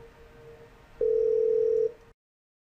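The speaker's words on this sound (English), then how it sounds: "her cell phone, 514-460-0000, will also ring" A cell phone rings from an incoming call in a multisite collaboration lab: one steady electronic tone lasting about a second over faint background hum, then sudden silence.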